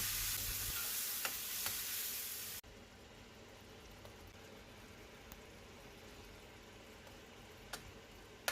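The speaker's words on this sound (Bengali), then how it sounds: "কাঁচা আমগুলো দিয়ে ভালোভাবে নাড়াচাড়া করে" Raw mango pieces tossed with turmeric, red chilli powder and black salt in a pan, giving a steady hissing sizzle that is loud at first, then drops to a faint, even simmer with a few sharp clicks of stirring.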